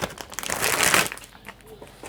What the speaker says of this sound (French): Je prends des ciseaux pour ouvrir le paquet.